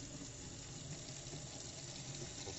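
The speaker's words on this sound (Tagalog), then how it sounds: "Lalagyan natin ng tubig." Tap water runs steadily into a container being filled for soaking, a faint, continuous splashing stream close by with no talking.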